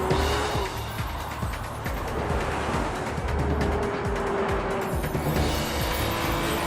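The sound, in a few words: 2012 Porsche Cayman R sports car driving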